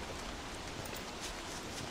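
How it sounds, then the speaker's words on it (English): Rain falls in the survival video game Don't Starve as a soft, even, continuous hiss. It stays quiet and unchanging throughout. "Hello, rain."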